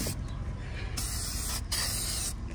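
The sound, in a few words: spray bottle spraying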